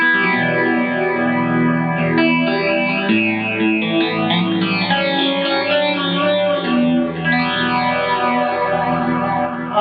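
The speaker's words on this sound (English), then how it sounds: "I've got that on an analog type delay, and that's just with a basic phase sound." Sustained electric guitar chords washed in analog delay repeats and a swirling phaser sweep, played continuously with no talking.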